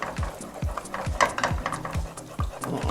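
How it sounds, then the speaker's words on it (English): Spoon scraping and stirring through thick mac and cheese sauce as cheese is mixed in off the heat, a quiet, close series of rhythmic strokes against the pot. "As I add the cheese, I'm just going to mix it in."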